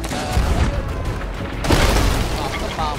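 A bomb blasts in Sea of Thieves with a deep, heavy boom, followed by a second booming burst a moment later, loud and close over ongoing game noise.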